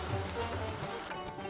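Rain falls at a temple in Bir Billing, a dense, even patter that stays fairly faint and constant.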